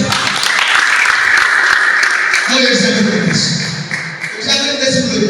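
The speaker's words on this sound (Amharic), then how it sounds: "አጨብጭቡ እናንተ" A church congregation clapping during a deliverance prayer service, a dense wash of applause that thins and fades toward the end, with a voice speaking over it.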